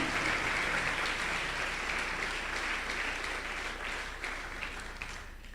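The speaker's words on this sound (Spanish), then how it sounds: "Dale, hoy sí, dale fuerte el aplauso al Señor." A church congregation applauds together, a dense, sustained wash of many hands that slowly thins and softens toward the end, with no talking over it.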